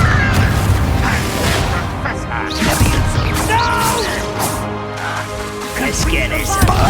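A Confringo blasting spell goes off in Hogwarts Legacy, with crashing, booming impacts and clattering debris amid the chaos of a fight with goblins, while voices shout over the din.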